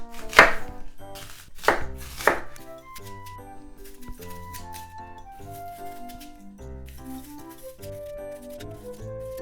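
A knife cuts the pit out of an apple: a few sharp chopping clicks come close together at the start, then background music carries on alone.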